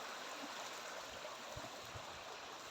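A creek flows in a steady, faint, even rush of water with no voices.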